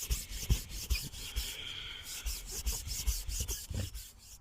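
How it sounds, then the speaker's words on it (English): Car fabric upholstery being scrubbed with cleaner, producing close, steady rhythmic rubbing strokes with a rough, raspy texture and no talking. "I'll just quickly show you on this front edge. Just give it a good scrub."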